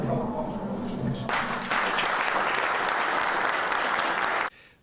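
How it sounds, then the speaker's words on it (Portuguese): Applause for two people during a Corinthians news segment, steady dense clapping that starts under a voice, grows fuller after a moment, then cuts off abruptly near the end, leaving quiet room tone. "Uma salva de palmas para vocês dois."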